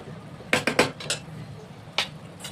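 A metal lid set onto a pot of prawn curry, several quick clattering clinks close together, then a lone clank after a pause, close and fairly loud.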